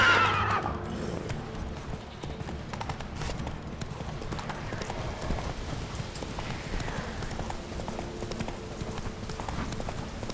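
Roach the horse galloping in The Witcher 3, hooves clopping in a fast steady rhythm throughout alongside a short whinny and game ambience.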